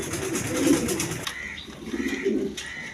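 Pigeons coo in soft, low repeated phrases at close range, a pair of sky-blue Rajgolla pigeons kept by a seller, with some brief higher bird chirps between the cooing.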